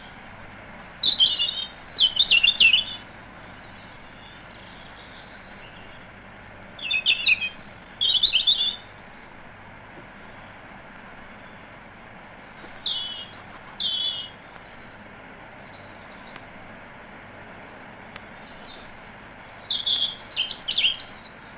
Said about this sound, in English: The robin fell silent in July, but towards the end of August he begins to sing again with a new and melancholy autumn song.